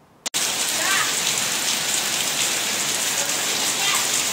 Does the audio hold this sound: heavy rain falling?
yes